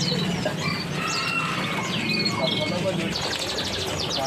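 Songbirds chirp and whistle at a bird market stall in Pasar Pramuka, Jakarta, several birds calling at once amid a busy, noisy background, with someone talking over them nearby.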